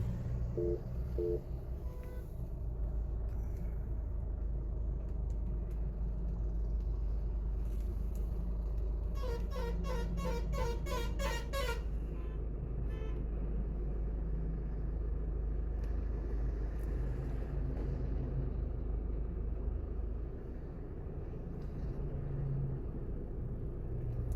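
A new Tata Safari SUV pulling away in drive mode: a steady low engine and road rumble fills the cabin, with a brief burst of electronic beeping chimes partway through.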